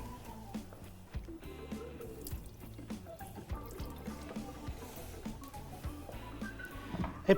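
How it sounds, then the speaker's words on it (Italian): Water drains and drips from a bowl as beef is rinsed and the first rinse water is poured away, soft trickling with scattered drips and clinks at moderate distance, no talking. "Butto via la prima acqua."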